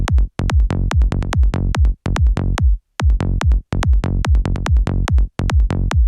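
Groovy synth bass line with a stereo spread effect applied, bouncy plucked notes repeating in a tight syncopated pattern with brief pauses, loud and alone.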